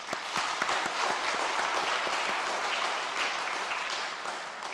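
A church congregation at a Korean sermon on Romans claps together in a dense, steady burst of applause that fills the whole stretch at an even level, with no voices over it.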